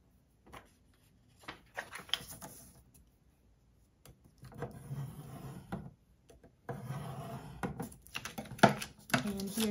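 Paper being scored for a Thanksgiving flipbook, with intermittent rubbing, scraping strokes of a scoring tool drawn along the sheet in short bursts, close and fairly quiet, with pauses of near silence between passes.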